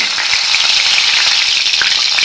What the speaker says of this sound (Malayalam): ഇതിലാക്കി വറ്റൽമുളക് ഇട്ട് കൊടുക്കുക.